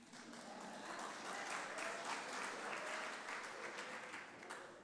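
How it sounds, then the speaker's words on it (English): Basketball teams clap at a university inauguration ceremony, a sustained wash of many hands applauding at a distance in a large hall, fairly soft and even throughout. "I think it's so nice of the basketball teams to clap."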